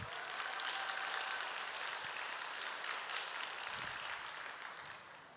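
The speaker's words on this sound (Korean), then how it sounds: "박수 한번 하겠습니다" A church congregation at a Sunday youth service applauds steadily. The clapping is faint and far off, a dense even patter lasting several seconds and fading slightly at the end.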